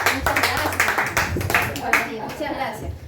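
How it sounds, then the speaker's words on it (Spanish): A church congregation claps during a service, brisk uneven bursts of applause mixed with talking voices. "Denle un fuerte aplauso a Dios"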